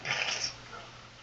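A tamed wolf dog in Minecraft gives a brief whimpering, growly sound that fades quickly, over a steady game background hiss.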